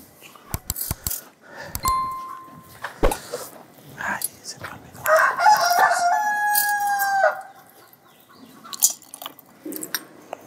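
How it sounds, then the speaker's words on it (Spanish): A rooster crows loudly with a long drawn-out call, mixed with dog barks and whimpers and other background noises, captured before an early-morning Mass celebration. "Comenzamos nuestra celebración con ese gallo cantador que ya nos levantó en la"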